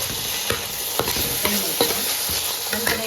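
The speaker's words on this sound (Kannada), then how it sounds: "ನೀರುಳ್ಳಿ ಫ್ರೈ ಆಗ್ತದಿತ್ತೆ ಇತ್ತೆ 1 ಟೊಮೆಟೊ, ಬೊಕ್ಕ ಶುಂಠಿ, ಕೈ ಮೆಣಸು ಹಾಕಿ" Chopped onion frying with tomato, ginger and chili in a pan gives off a steady close sizzle, broken by regular scraping clatters of a spoon stirring every half second or so; no one speaks.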